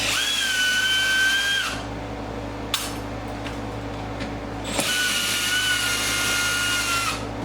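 A power drill whines in two long runs while a carbon flash front splitter is fitted to a C8 Corvette Z06 or E-Ray, with a short click and quiet handling between bursts.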